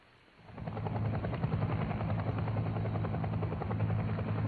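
A UH-1 military helicopter's rotor noise swells in quickly after a quiet start, then holds as a loud, steady chopping drone close by.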